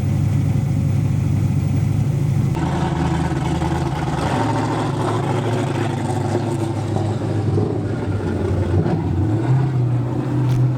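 A turbocharged car engine with a new motor and turbo idles with a steady, rough rumble and scattered crackling pops, close by, with no voices.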